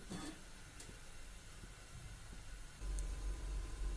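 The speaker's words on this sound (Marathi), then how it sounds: "पाण्याला उकळी आलेली आहे" Salted water boiling in a covered pan, a faint steady hiss and rumble that grows a little louder and fuller toward the end.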